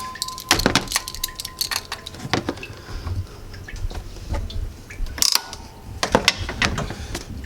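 A hose clamp is worked off the upper radiator hose of a 1999-2013 Chevy truck, sharp metallic clicks, ratcheting snaps and clinks in irregular bursts, close and fairly loud.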